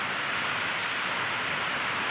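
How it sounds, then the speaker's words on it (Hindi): Heavy early-morning rain pours down outside during a power cut, a dense, steady hiss of falling water with no pauses and no voices. "बाहर बारिश हो रही है बहुत तेज़"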